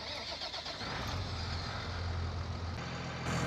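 NMC Scarok 3500 truck in Farming Simulator 2019 starting up, its engine cranking and then settling into a steady, close mid-pitched running drone, with no talking.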